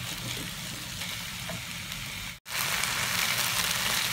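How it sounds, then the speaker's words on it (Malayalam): Crushed coconut goes into an ivy gourd stir-fry in a hot pan, making a steady, close sizzle and frying hiss that cuts out for an instant midway and then continues, with no talk. "ഇനി നമുക്ക് ചതച്ച് വെച്ചിരിക്കുന്ന തേങ്ങ ഇതിലേക്ക് ചേർത്ത് കൊടുക്കാം."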